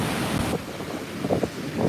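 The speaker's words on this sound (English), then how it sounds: "here comes the ocean" Ocean waves washing in at Montara State Beach on a cold, windy day, with steady wind buffeting the microphone and a broad rush of surf swelling and fading close by.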